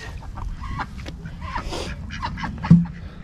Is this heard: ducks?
yes